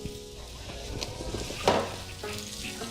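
Butter sizzles softly in a Rachael Ray frying pan before an omelette, a close, low crackle with a brief louder spit midway and faint stirring clatter.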